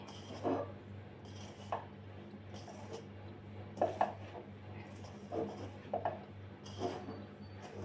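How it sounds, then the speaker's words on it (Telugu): Hands mix oil into flour dough for a savoury snack, giving soft, irregular squelching and pressing sounds at close range, spaced a second or so apart, with no talking. "ఈ ఆయిల్ అనేది ఈ పిండి మొత్తం కలిసేటట్టు మంచిగా కలుపుకోవాలి."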